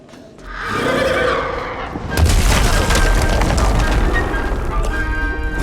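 A loud bomb blast in the video game Little Orpheus: a rumbling build-up, then a sudden heavy boom at about two seconds that swells into a sustained roaring, crackling explosion.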